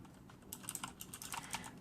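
Quick, uneven typing on a Corsair K70 mechanical keyboard with Cherry MX Blue switches, with sharp, crisp clicks in a fairly fast run and a short pause at the start.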